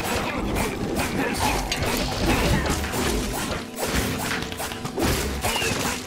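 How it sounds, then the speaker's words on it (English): A firework bursts in Minecraft Dungeons amid the game's Cacti Canyon action, with loud crashing, thudding explosions and clattering mechanical game effects running continuously, a brief dip near the middle. "I love the firework there."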